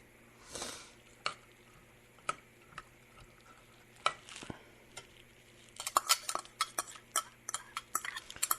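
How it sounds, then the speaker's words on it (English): Carrots, celery and onions are stirred in a cooking pot for black bean and mushroom soup, with soft faint sizzling broken by scattered spoon scrapes and clinks that quicken toward the end. "Let's give that a nice stir."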